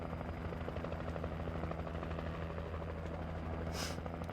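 A helicopter hovers in the video game Alan Wake Remastered, a steady low rotor thrum and engine drone held throughout, with a short bright hissing burst near the end.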